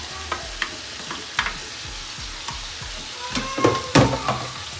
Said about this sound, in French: Nous allons renverser aussi le chou.